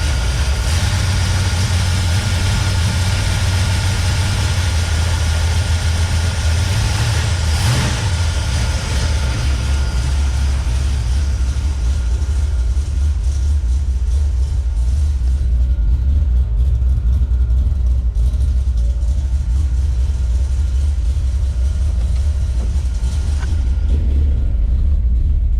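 A Mopar 440 big-block V8 idles after months without running, cold and with timing issues: a loud, close, steady low rumble that holds for the whole stretch, with a brief surge partway through and no voices.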